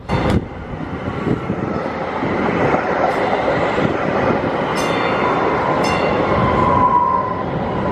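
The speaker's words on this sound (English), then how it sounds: "Alright, this is the inside of the train. Green line." Inside a Green Line passenger train in Dallas, a loud continuous rumble of wheels and car body, with sharp clanks and a brief high squeal.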